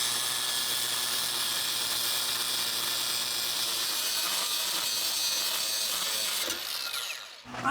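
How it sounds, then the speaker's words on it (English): Steady, loud grinding cut through a seized cab mount bolt on a 20-year-old SVT Lightning truck frame, running continuously for about seven seconds before winding down at the end. "we have to cut the bolt at the top there for this cab mount that is stuck on"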